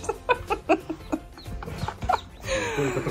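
Several chickens cluck in quick, close bursts, rhythmic clucks and short calls that end in a rush of rustling noise.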